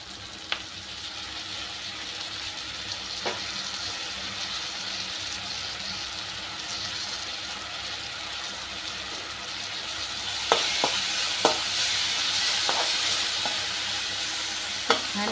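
Ginger, garlic, coriander and green chili paste with masala sautés in oil, giving a steady soft sizzle with occasional stirring clinks and scrapes that grow sharper near the end.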